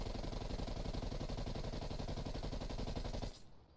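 Rapid automatic gunfire from a rifle fitted with an SFOD speed grip in Black Ops Cold War, a loud dense burst of shots firing continuously for over three seconds before cutting off abruptly.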